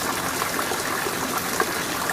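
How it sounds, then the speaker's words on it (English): A pump pushes water through a 1-inch PVC line into a 35-gallon plastic drum on a wooden stand in an aquaponics setup, a steady close rushing trickle without pause. "the water is being pumped to that 35-gallon plastic drum that you see sitting on the wooden stand at the other end"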